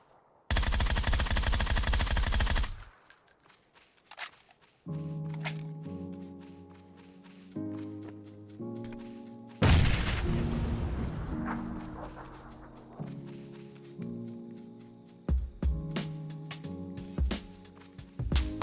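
Gunfire sounds in the video game PUBG Mobile: a loud rapid burst opens the clip, followed by more bursts and single shots mixed with game music and effects.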